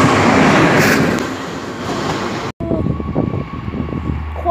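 Two passenger trains, one a Corail, pass each other at Lyon Part-Dieu station: the first roars past close by, then the second passes with rapid clattering wheels and a steady hum, no voices.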